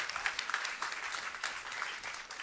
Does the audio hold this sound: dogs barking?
no